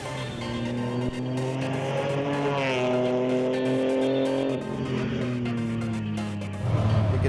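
A car driven hard on a race track, its engine note climbing through the gears in long rising harmonic sweeps with tire squeal, then easing off and picking back up near the end, heard alone without talk.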